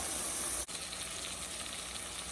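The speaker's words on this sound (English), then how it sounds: "simmer until the wine is totally evaporated and the onions are all dry" Onions simmering in wine in a pot for French onion soup give a steady, close hiss of gentle bubbling, broken by one brief dropout early on before the even simmer resumes.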